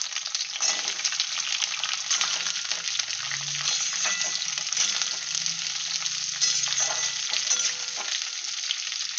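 Cauliflower and potato fry in oil in a wok, with black cumin and whole dried chilies tempered beforehand, making a loud, continuous crackling sizzle and occasional stirring scrapes, up close.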